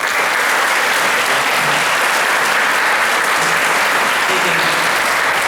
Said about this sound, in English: And I think that in itself deserves a round of applause.